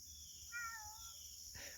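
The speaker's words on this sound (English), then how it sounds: "Kitty Blaze is over there in the scrub talking to me." A single soft, drawn-out cat meow, fairly distant, rising then trailing off against a steady outdoor background hiss.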